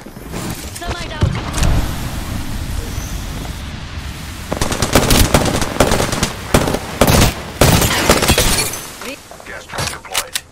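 Gunfire in the shooter Apex Legends, with bursts of rapid automatic shots and sharp cracks growing denser toward the middle, along with clinks and mechanical handling noises and a voice speaking over it.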